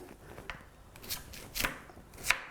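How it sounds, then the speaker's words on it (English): A hard vegetable is chopped into pieces on a board as juicing prep, with a few distinct knife strikes at irregular intervals, close and fairly crisp, with no one talking. "We want to cut it up into some pieces."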